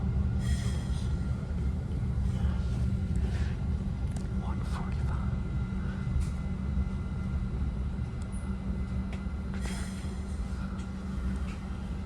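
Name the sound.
Caltrain commuter train pulling into Mountain View Station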